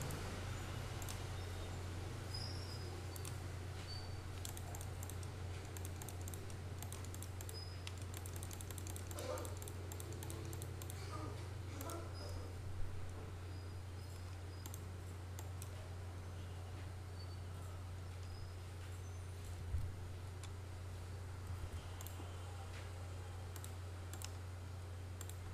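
Faint, sparse clicks of a computer mouse and keys sound while a Squarespace web page is being edited, set against a steady low electrical hum with no talking.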